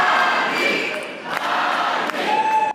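Supporters of Paraguay's ruling-party presidential candidate Peña celebrating his election win, a large crowd cheering and shouting in a sustained roar, with a few sharper cries and thuds standing out.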